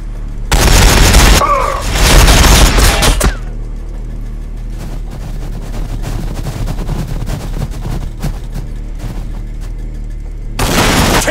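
Heavy gunfire and booming blasts in a Warhammer 40K battle between Blood Angels and an Ork horde, loud dense bursts in two long waves separated by quieter rumbling background.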